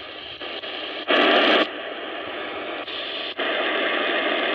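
A KA500 emergency radio tuned across the AM band gives a steady hiss of static that jumps louder in short bursts as the dial moves, with no clear voice coming through.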